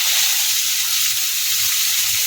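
Flat beans tossed into a wok of lightly fried potatoes bring a loud, steady sizzle and hiss of hot oil, close and unbroken with no voices.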